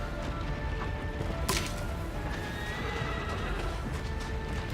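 A horse neighs loudly in the video game Shadow of the Colossus over steady clip-clopping hooves and a constant background din, with a sharp crack partway through.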